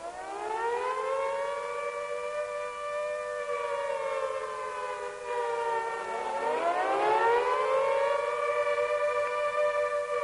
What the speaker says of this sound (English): This is the sound of war. It is an air raid signal.